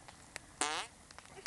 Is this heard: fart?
yes